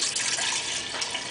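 Brewed tea, about two cups, poured into a jar or bowl for making kombucha, a steady splashing trickle of liquid running alone and close throughout.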